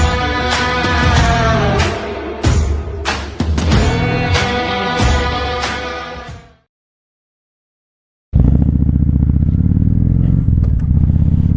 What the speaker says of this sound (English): And I'm out here on this motorcycle.